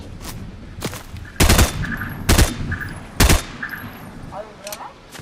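Sharp bursts of gunfire from the video game Fortnite, with three loud, heavy shots standing out among lighter rapid pops and game effects, under a voice talking.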